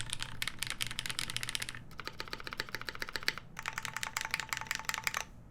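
Rapid typing on a mechanical keyboard fitted with lubed, retooled MX Black switches comes in three dense bursts of clacking keystrokes with brief pauses between them, close up and with no talk.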